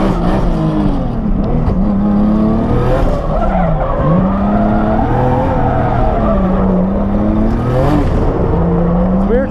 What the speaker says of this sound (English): Driving this track with a right-hand drive car.